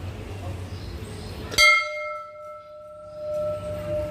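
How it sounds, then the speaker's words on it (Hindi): A single bright temple bell strike rings out over background murmur at a Hindu temple, its clear metallic tone sustaining and slowly decaying for a few seconds. "यह है माता रानी की घंटी है।"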